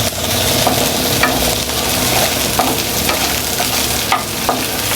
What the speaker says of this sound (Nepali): मजाले भुट्छु म यसलाई